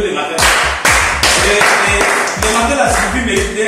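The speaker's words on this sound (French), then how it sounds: "Applaudissez pour vous les matins." An audience claps along at a motivational seminar, the strong rhythmic hand claps and thumping beats coming in punchy repeated bursts over a loud backing, with a voice talking intermittently.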